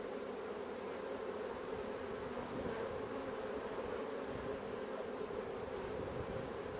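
Honeybees drone in a steady, dense buzz all through an open-hive inspection in Australia, close and continuous with no talk.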